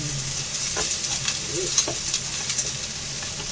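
Food is sautéed in a pan for a litson dish, a close continuous sizzle and hiss with soft stirring scrapes and small clacks scattered through it.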